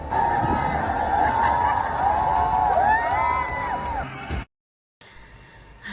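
A rowdy crowd in the rain on a Lucknow street shouts, whoops and cheers in a loud, continuous din with rising yells, cutting off abruptly near the end.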